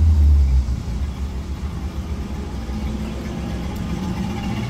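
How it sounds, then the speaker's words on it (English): A 1966 Ford Mustang convertible engine with single exhaust, all original, sits close by and settles into a steady, mellow low idle after a louder first moment, rumbling evenly throughout. "This car starts up just amazing every time."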